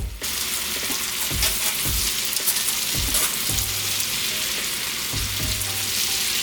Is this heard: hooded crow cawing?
no